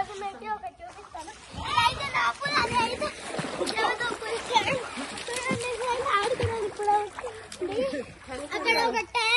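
People and children splash and play in a resort swimming pool among Kerala tea estates, with water slapping and sloshing continuously under lively overlapping voices and shouts.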